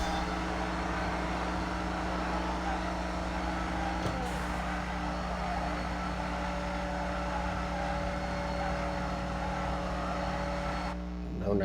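A car race in the mobile game Need for Speed No Limits, run without nitrous, plays as a steady, loud, droning engine hum at a constant pitch that cuts off abruptly near the end, with a short click partway through.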